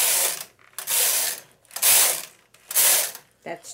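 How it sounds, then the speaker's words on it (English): Knitting machine carriage pushed across the bed in four loud rasping, ratcheting sweeps, each about half a second to a second long with short pauses between, knitting rows of a slipper sock heel. "all I'm going to do is I'm going to knit"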